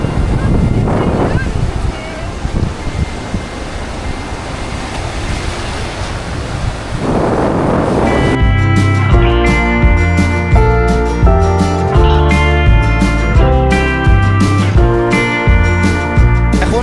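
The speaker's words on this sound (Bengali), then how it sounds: "এই দেখো ঢেউ, এরকম বড় বড় ঢেউ আসছে এখানে" Large sea waves roll and break on the beach at Mousuni Island, a loud, rushing wash with wind buffeting the microphone; midway, rhythmic music takes over and drowns the surf.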